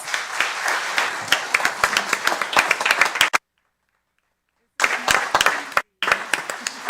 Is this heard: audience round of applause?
yes